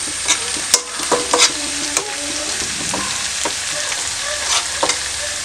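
Prawn biryani gravy mixture stirred in a pan, a steady scraping and clatter of the spoon over a low sizzle, with a few sharper knocks against the metal along the way.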